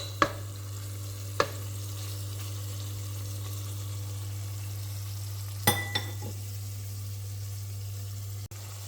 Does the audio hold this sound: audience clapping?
no